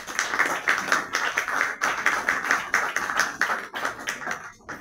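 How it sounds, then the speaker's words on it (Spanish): Applause for a guest at a book presentation: a small audience claps in a steady rapid patter for several seconds, thinning and tapering off near the end, with no talk over it. "Un aplauso para el señor De Ferrari"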